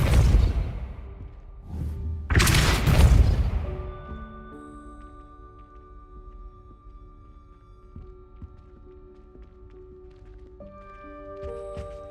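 Depulso force spell in the video game Hogwarts Legacy, heard as two loud whooshing bursts with a thud, followed by quiet sustained game tones.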